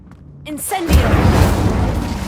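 Incendio fire spell cast in Hogwarts Legacy, a burst of roaring flame that swells after a brief spoken incantation and keeps rushing loudly for over a second.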